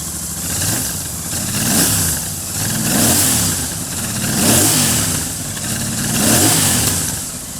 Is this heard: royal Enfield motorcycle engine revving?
yes